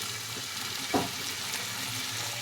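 A steady, soft sizzle of chopped tomatoes frying in a pan after garlic, with a brief louder hiss and clatter near the start as the tomatoes are added.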